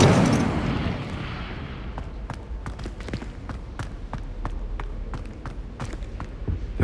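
Incendio fire spell cast in Hogwarts Legacy, a burst of roaring flame that fades over a second or two, followed by a series of sharp crackling pops and snaps.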